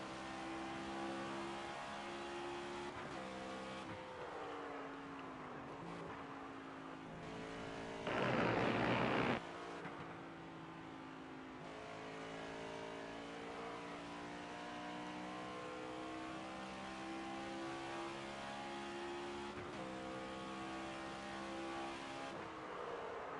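NASCAR stock car from NASCAR 25 running a backwards lap at Gateway, a steady loud engine drone with shifting revs throughout and a brief burst of harsher broadband noise, like a scrape or skid, partway through.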